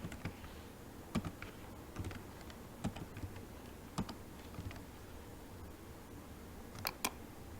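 Someone types an IP address on a computer keyboard: scattered quiet key clicks in irregular bursts with a few sharper taps, faint over a low steady room hum, with no talking.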